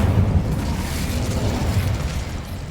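Casting the Incendio fire spell in Hogwarts Legacy gives a dense, roaring burst of flame with a low rumble, steady and fairly loud throughout.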